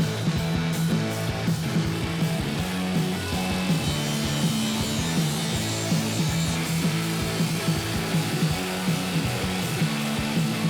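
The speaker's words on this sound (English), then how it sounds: "I get to crank up the saw and cut some steel" A power saw cuts through steel during dock and deck construction, a steady loud grinding whine with a dense, continuous rasp throughout, no voices.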